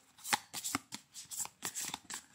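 Oracle advice cards are shuffled by hand in a quick series of crisp, close riffling bursts, each a soft papery flutter, with no talking.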